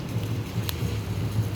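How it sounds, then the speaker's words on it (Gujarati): Light, fine rain falls over the city of Jamnagar at night, a steady soft patter and hiss with a low rumbling undertone and no voices. "વરસાદ ચાલુ છે ઝીણો ઝીણો જામનગર શહેરમાં."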